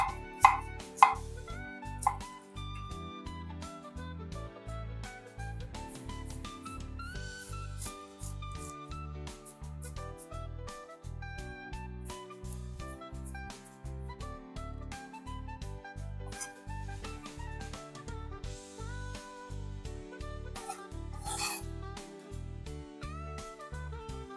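Red onion being chopped on a cutting board with a knife, steady rhythmic knocks repeating quickly and evenly throughout, set against continuous background music with no talking.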